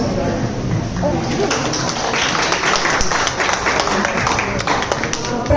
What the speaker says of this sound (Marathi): टाळ्या वाजवा त्यांना सपोर्ट करा.